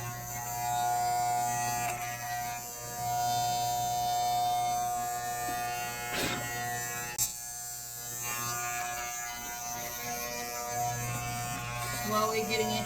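Electric clippers buzz steadily while cutting a toddler's hair at home, a close continuous hum that shifts pitch slightly as they work, with a person talking softly over it at times.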